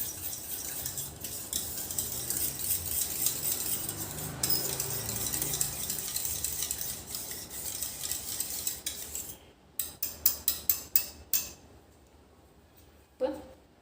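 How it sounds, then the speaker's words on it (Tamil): Curd (yogurt) being beaten in a bowl for fruit salad: a steady, busy whisking and scraping texture that stops abruptly, followed by a few sharp spoon taps against the bowl's rim near the end. "அடுத்தது தயிர் நல்லா இந்த மாதிரி அடிச்சுக்கலாம்."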